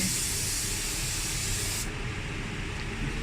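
A steady, hissing spray of coating onto glass runs without a break, loud and close. The sharp edge of the hiss drops away partway through.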